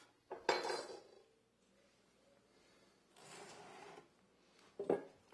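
A chef's knife works the wings off a roast turkey, making a few distinct scraping and clattering bursts against the carving board or platter with quiet pauses between them, fairly close and without talk.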